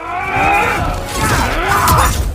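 Heavy stone-and-metal constructs get smashed and crushed in God of War combat: a loud, continuous grinding crash of shattering debris with groaning, creaking tones, dense and close throughout.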